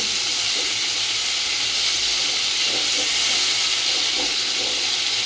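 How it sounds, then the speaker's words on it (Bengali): Potatoes seasoned with turmeric and salt fry in hot oil, giving a steady, loud broadband hiss that runs unbroken throughout with faint clinks underneath. "আর একটু হলুদ দিয়ে দিয়েছি একটু লবণও দিয়ে দেবার ভিতরে দিয়ে আমি আলুটা ভেজে নেব"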